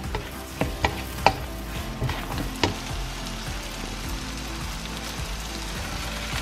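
Onion softening in butter in a pot for a pea and avocado soup, a steady gentle sizzle with a few sharp clicks and taps near the start, no voices.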